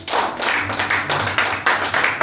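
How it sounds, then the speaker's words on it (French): A church congregation claps together in a dense, lively burst of applause that stays close and loud throughout. "On acclame pour la parole de Dieu."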